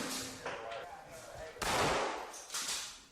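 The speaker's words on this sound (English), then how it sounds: "The SWAT team and the terrorists then shoot it out." Gunfire in a SWAT team shootout with terrorists at a counter-terrorism training center, several loud sharp bursts and cracks in quick succession, with voices shouting in the background.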